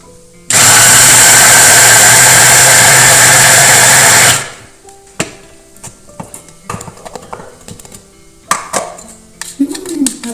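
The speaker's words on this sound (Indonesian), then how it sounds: "Sekarang kita akan campurkan atau mixer menjadi satu semuanya." Electric mixer blending a peanut pastry filling: a loud steady whirring drone runs for about four seconds, then cuts off, leaving quiet kitchen clatter and light handling noises.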